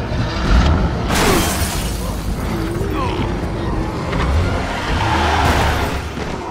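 A car in the game Resident Evil 6 starts with a loud mechanical burst and roars as it pulls away, mixed with crashes and rumbling debris under dense, close game noise.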